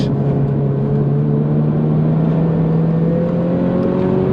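A Subaru on a hot lap at a supercar meet, its engine droning loud and steady with a rising tone as it brakes and turns into a corner, under continuous road and wind noise.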